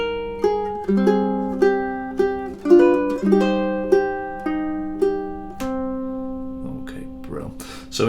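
A ukulele plucks two measures of a love theme: a slow melody of clear, ringing single notes over soft harmony, each note decaying, ending on a long sustained tone with faint noise at the close.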